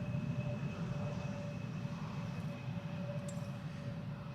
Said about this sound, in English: KLM Embraer 175 arriving from, what was it? Norwich.